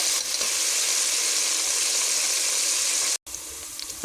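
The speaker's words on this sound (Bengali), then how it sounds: "এখানে সব কিছু পেঁয়াজ রসুন দেওয়া হয়ে গেছে, এখন আমি ভালো করে নেড়ে লাল লাল করে ভেজে নেব" Onions and garlic sizzle steadily in hot oil in a pan while being stirred, a loud, dense hiss that runs continuously and cuts out for a brief moment near the end.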